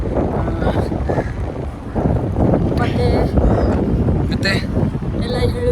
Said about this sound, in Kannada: ತುಂಬ ಜೋರು ಗಾಳಿ ಚೆನ್ನಾಗಿ ಬರ್ತಾ ಉಂಟು